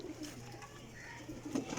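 A female golden pigeon coos softly at close range, with a couple of low murmuring calls rising near the end over a quiet background.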